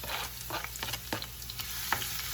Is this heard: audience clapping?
no